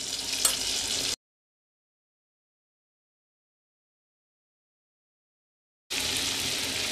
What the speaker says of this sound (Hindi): मिक्स करके मसाले को सौते कर लेंगे